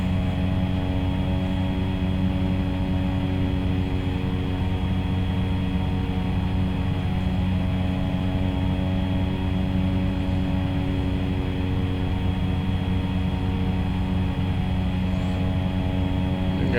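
Steady, loud drone of the AirHualer2 aircraft cruising in the X-Plane 11 flight simulator, a constant engine hum with layered tonal whine and no talking.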